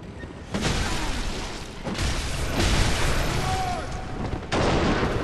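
An enemy shooting at the player in Bloodborne, Hunter's Nightmare area of the Old Hunters DLC: loud booming shots in several spaced blasts over a dense rumbling game soundscape.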